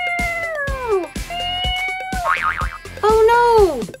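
A cartoonish toy cat meows in several drawn-out, sliding cries, with a springy boing-like wobble in the middle, loud and close.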